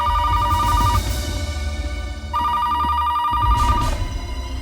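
A telephone rings in two repeated bursts, its electronic tone clear over a low rumbling background.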